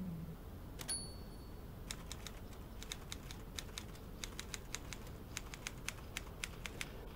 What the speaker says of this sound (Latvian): Tātad šis rakstā mašīnas troksnis